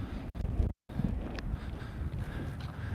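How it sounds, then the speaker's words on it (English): Wind buffets the microphone on an outdoor trail, loud rumbling gusts with a brief dropout, steady scratchy noise throughout. "Sorry, it's a bit windy here today on the trail."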